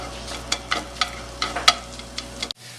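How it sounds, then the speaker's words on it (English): Onions sauteing in oil in a pan with potatoes for a Spanish tortilla, a steady close sizzle with scraping stirs, then a sudden cut to near silence. "while the onions are sauteing"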